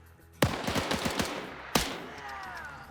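Gunfire in a WW2 video game PvP match: a sharp, close shot, then a quick rattling burst, then a second loud crack that rings out and fades.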